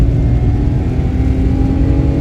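A car accelerates hard in first gear, its engine droning loud and close in a steady rising hum with no talk over it.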